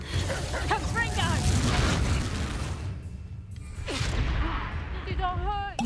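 Fire-spell explosions from the Hogwarts Legacy video game, several booming blasts with crackling bursts in quick succession, loud and close, mixed under a character's shouted voice.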